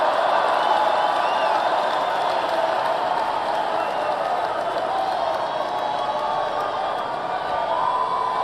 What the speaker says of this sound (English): Listen to them cheering.